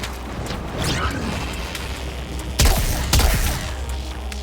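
An explosion in Warframe arrives as two sharp, heavy bursts close together, each with a booming low thud, set against a busy background of rumbling, crackling game noise.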